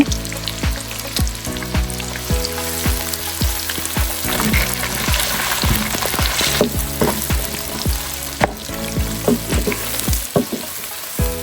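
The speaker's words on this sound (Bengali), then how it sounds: "পেঁয়াজ দিয়ে দিব, একটু বাদামি করে ভেজে নেব।" Onions frying until brown for bhuna khichuri, a loud, continuous close sizzle with repeated clinks and scrapes of stirring against the pot throughout.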